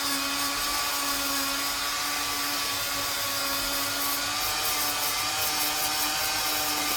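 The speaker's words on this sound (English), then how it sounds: "every time the Dremel catches and flicks around the edge" A Dremel rotary tool grinding the edge of a Nordic pauldron armour piece: a continuous high whine with steady tonal hum, close and unbroken.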